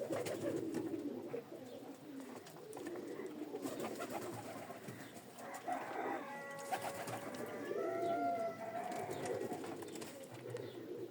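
A male pigeon sitting on eggs gives soft, low cooing calls close by, a series of rolling coos over a quiet background with faint rustling.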